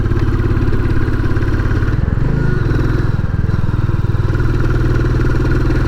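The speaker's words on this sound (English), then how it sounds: "the exhaust sounds nice." A single-cylinder Royal Enfield 350 exhaust thumps steadily nearby on a country lane with a loud, chugging low rumble, swelling briefly as the throttle opens, then settling back to a rhythmic idle-like putter.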